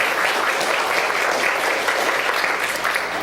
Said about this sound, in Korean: 우리가 정말 축하하는 의미에서 박수로 한번 격려드리겠습니다